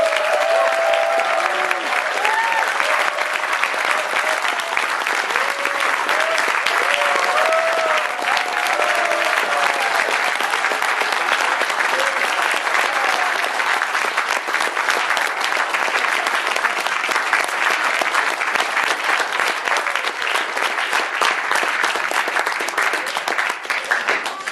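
Sustained loud applause from a large audience at a graduation ceremony for fellows, dense steady clapping with crowd noise, unbroken for over twenty seconds.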